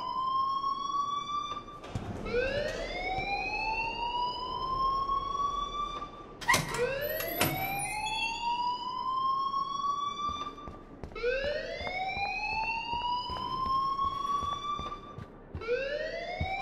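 An electronic fire alarm sounds inside a school building in the video game Life is Strange, with loud, rising whooping tones repeating about every four to five seconds, punctuated by sharp clicks and bursts.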